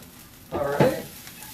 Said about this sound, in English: Just getting the garlic and everything distributed, getting some hot oil on it